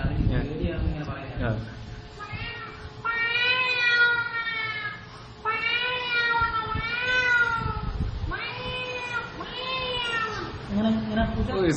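A mimic voices a frightened cat crying. Three long, quavering, plaintive meows follow one another, close and fairly loud, with a brief spoken word at the start.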